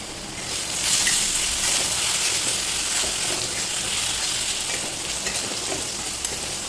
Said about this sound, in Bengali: আলুগুলো ভাজা হয়ে গিয়েছে